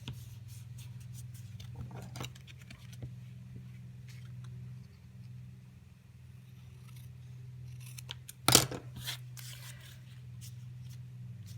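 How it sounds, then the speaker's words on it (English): Scissors trim cardstock for a double Z fold card: a few faint snips and paper rustles over quiet room noise, then one louder, sharper cut near the end. "I will trim this bit off"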